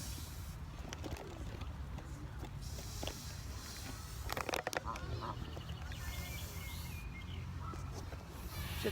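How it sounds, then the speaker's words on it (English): Several geese honk outdoors in scattered bursts, moderately near, over a steady ambient background with occasional other bird calls. "We got little hissing geese"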